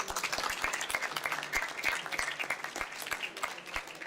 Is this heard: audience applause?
yes